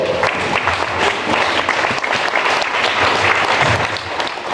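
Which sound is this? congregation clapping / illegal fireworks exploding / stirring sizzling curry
congregation clapping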